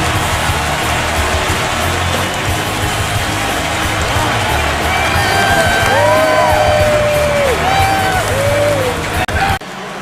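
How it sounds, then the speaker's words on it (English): Crowd at a Buffalo Bills versus New England Patriots NFL game in 2011 roaring and cheering steadily across the stadium under a commentator's voice, with whistles and whoops rising partway through. "And hearing it from this crowd."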